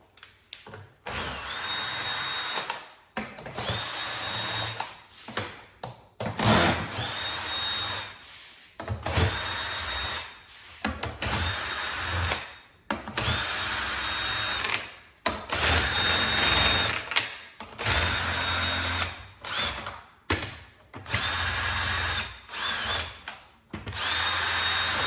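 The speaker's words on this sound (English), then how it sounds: "first I'm going to remove the drum hoop, and I have the Gibraltar attachment for the drill" A power drill with a drum-key attachment whirs in repeated close bursts, removing a bass drum hoop, stopping and starting every few seconds, with brief quiet gaps between runs.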